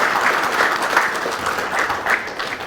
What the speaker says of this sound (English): Please give him another big round of applause.